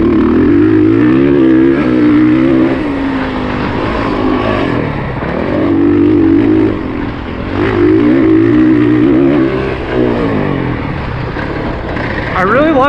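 A 2021 Honda CRF450R dirt bike engine drones and rises and falls in pitch while riding, loud and close, with a voice talking over it much of the time.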